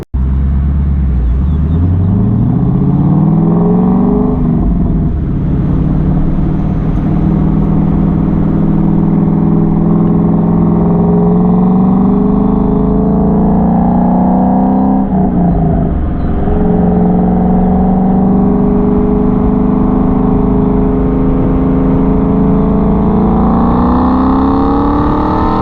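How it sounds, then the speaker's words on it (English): A 2014 Mustang GT Track Pack with an OEM GT500 exhaust rumbles deep and loud, its V8 revving up in rising sweeps and settling back, held close and continuous with no talk. "it's an OEM GT 500 exhaust"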